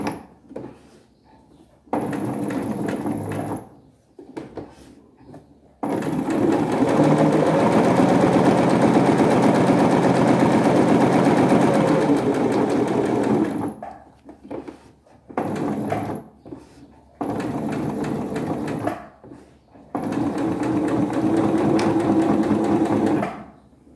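A sewing machine stitches fabric for a dish towel at a reduced stitch length, running in several bursts, one long steady whir and shorter runs separated by brief pauses, loud and close with no talking.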